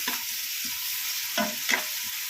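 Masala for dry Bombay duck being stir-fried with salt in a pan, a steady close sizzle broken by a few sharper scraping stirs, with no voices.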